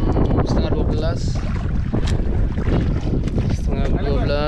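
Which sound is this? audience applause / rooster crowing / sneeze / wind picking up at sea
wind picking up at sea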